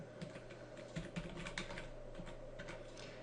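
Rapid keystrokes on a computer keyboard as a username is entered, a close, steady clatter of uneven taps over a constant low electrical hum.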